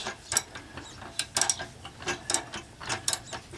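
A Harbor Freight transmission jack is raised in small increments, giving quiet, close ratcheting clicks in short irregular bursts with brief pauses between pumps.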